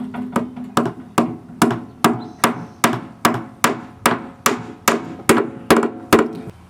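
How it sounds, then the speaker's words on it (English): Steady hammer taps, about fifteen sharp metallic strikes at an even pace, close and fairly loud, with no talking, as pins are tapped back into a wine barrel. "I'm just going to reinsert, the pins back here, tap them back in."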